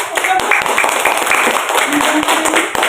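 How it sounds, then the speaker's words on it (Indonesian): Classroom applause from a seventh-grade social studies class, a brisk burst of many hands clapping together that fills the room steadily from start to finish. "Kasih aplaus dulu ya"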